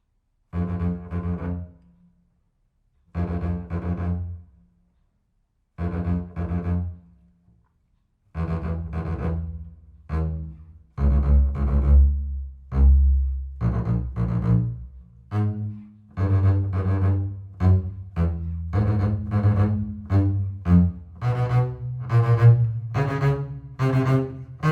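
Solo double bass bowing a Tchaikovsky Symphony No. 4 rhythm with a waltz feel, starting as three short separated phrases and then running continuously, loud and close, with a rising line and no talk.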